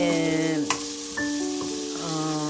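Potatoes fry with masala in a pan, giving a steady close sizzle with a brief stir or clink partway through, over a faint tonal background hum.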